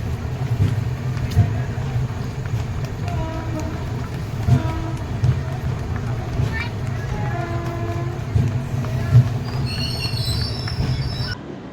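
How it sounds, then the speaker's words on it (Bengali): The Brahmaputra Mail pulls into New Cooch Behar station at night, with a steady rumble of rolling wheels, faint squeals and brief clanks over a station crowd's murmur. "রাত 12টার সময় ট্রেন এসে পৌঁছালো নিউ কোচবিহার স্টেশন"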